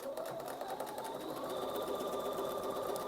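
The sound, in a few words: sewing machine stitching quilt fabric pieces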